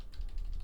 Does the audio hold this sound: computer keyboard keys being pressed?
yes